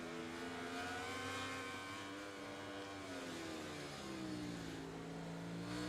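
Motorcycle engine and exhaust in the MotoGP 20 racing video game, a continuous buzzing roar whose pitch rises and falls with throttle changes, heard alone at moderate level.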